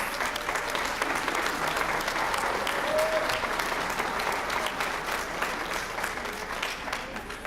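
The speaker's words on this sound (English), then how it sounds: "Let's give them a round of applause." A graduation audience at a high school celebration applauds as names are read, a dense, steady wash of many hands clapping at once that holds evenly throughout with no talking over it.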